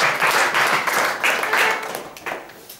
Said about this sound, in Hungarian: ezért külön tapsot megint.